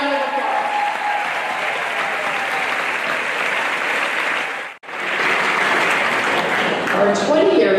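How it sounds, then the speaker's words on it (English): A school convocation audience applauds in a large hall, a dense and steady roar of clapping that sweeps on for several seconds, dips to a brief pause near the end, then surges back at full strength. "Big round of applause."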